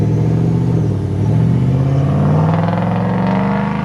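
Ford Mustang 5.0 with Performance Pack 1 rolling out at a Houston car show, a loud, close, rumbling V8 idle that builds into a steady, rising rev as the car pulls away.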